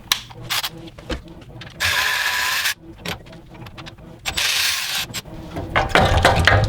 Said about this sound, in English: I can now get it out with the power ratchet